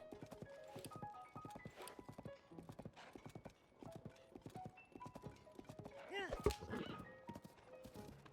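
Rapid clip-clop of a horse galloping across open ground in Tears of the Kingdom, hoofbeats steady and close, with a brief whinny and a voice talking over the run.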